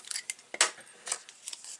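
Scissors cut paper for a stamped animal-themed scrapbook album, giving a quick run of close, crisp snips and rustles over about two seconds, one stroke louder than the rest.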